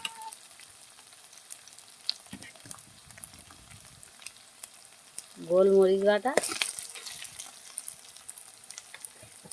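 Ginger, garlic and black pepper paste frying in a pan produce a faint, low hiss that swells briefly with a short burst of voice midway, then settles back to a quiet sizzle.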